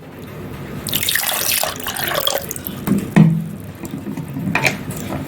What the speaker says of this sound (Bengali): এখন আমি আরো অল্প ঠান্ডা জল দিয়ে দেব।